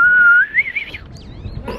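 A person on Jeju Island whistles a short rising, warbling phrase imitating bird song, close and clear, followed by quiet outdoor background.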